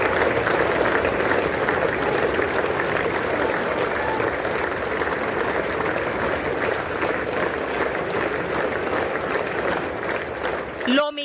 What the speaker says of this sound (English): Lawmakers stood up and applauded as he walked up to the podium to deliver his address